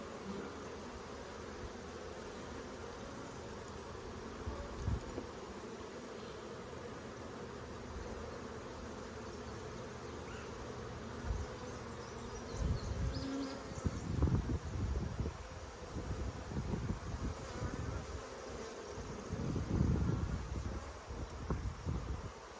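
Agitated honey bees buzz around an open hive, a steady droning hum that thickens and grows louder in the second half as more bees swirl close, with faint rustling underneath and no speech.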